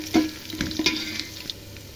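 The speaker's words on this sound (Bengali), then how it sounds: "পেঁয়াজ লাল করে নিচ্ছি।" A brief, faint patch of frying: onions, green chillies and garlic sizzle softly in oil for khichuri, with a few light scrapes and clinks of stirring against the pan.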